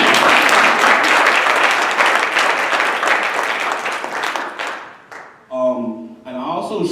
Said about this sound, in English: Can I get a hand clap for that?